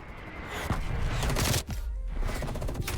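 Sustained automatic gunfire in Black Ops Cold War multiplayer, dense bursts of shots crackling continuously over about three seconds with a brief gap midway, fairly loud and without talk.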